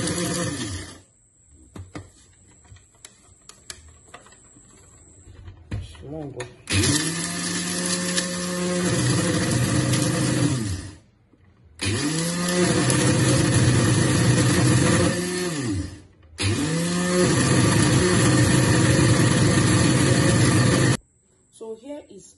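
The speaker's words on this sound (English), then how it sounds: "So I'll be blending this right now." A kitchen blender grinding dried ginger into powder whirs loudly in three long bursts, each starting with a rising whine and cutting off abruptly, with short quiet pauses between them.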